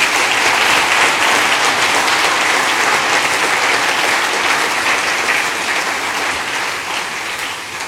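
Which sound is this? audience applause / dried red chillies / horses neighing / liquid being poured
audience applause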